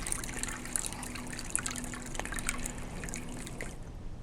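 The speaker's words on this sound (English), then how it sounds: "using a coffee filter paper, the solution is filtered" Copper oxide solution trickles through coffee filter paper, a faint continuous patter of drips and liquid with a low steady hum underneath.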